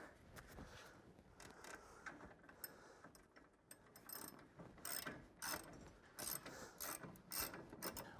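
A hand ratchet clicks in quick uneven bursts while tightening a bolt during a car shock absorber replacement, close and fairly quiet, with no speech.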